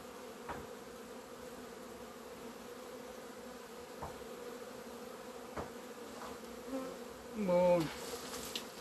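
A low, steady buzz of many bees humming together in a queenless hive, continuous and close, with a brief louder surge near the end.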